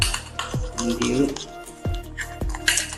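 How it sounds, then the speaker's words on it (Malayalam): A hair oil mixture is stirred slowly in a vessel, with soft scraping, clinks and a few sharp taps against the container, close and irregular. "നല്ലപോലെ മിക്സ് ആകുന്നത് വരെ ഇങ്ങനെ ഇളക്കി സാവധാനത്തിൽ ഇങ്ങനെ"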